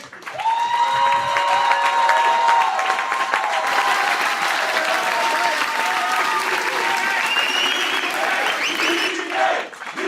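Loud, sustained applause from a live professional wrestling crowd, with cheering and shouts mixed in, filling the whole stretch and dipping briefly near the end.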